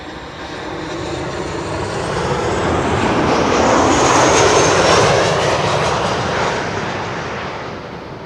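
A KLM airliner on Flight 1512 from Barcelona, arriving at Schiphol's Kaagbaan runway, roars past with a loud engine rush that swells to a peak midway and then slowly fades.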